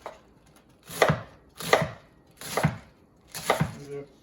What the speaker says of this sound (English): Then we're also gonna julienne this also.